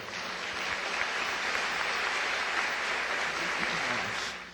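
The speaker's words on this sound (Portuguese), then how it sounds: "Se você recebe, dê um aplauso a Ele." Congregation applause during a Christian worship program, a dense, even wash of clapping that holds steady and then drops off abruptly at the end.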